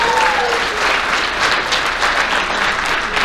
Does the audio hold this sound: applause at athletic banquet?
yes